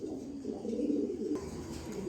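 Pigeons, a pair of Super Mili babies, coo softly and repeatedly at close range in low, rolling calls, with no talking.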